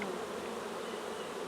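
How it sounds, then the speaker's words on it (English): Honeybees swarm around a hive during a nucleus transfer with a Kona queen, a dense continuous buzzing drone, fairly faint and steady with no voices. "There's bees everywhere."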